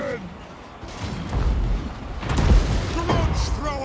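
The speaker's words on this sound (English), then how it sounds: "Cannon!" Dwarf cannon fire in a Total War: Warhammer battle sounds as heavy booming blasts that swell through the middle of the clip amid a dense battle din, with voices shouting over it.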